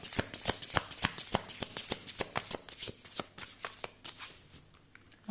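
Tarot cards riffle and snap in a quick, steady run of crisp close-up flicks, slowing and thinning toward the end, with no talking over them.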